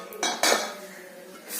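Metal pans and utensils clatter and clink in a kitchen while appam cooks, two sharp clanks close together followed by quieter scraping and a faint knock, with no voices.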